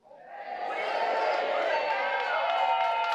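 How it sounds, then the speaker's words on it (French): A crowd audience at the end of a show swells from quiet into sustained applause and cheering, a dense, steady roar that holds loud for several seconds. "Merci pour vos applaudissements"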